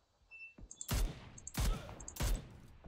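Three sharp gunshots in the game PUBG, spaced roughly evenly apart, each with a short ringing tail over a quiet background.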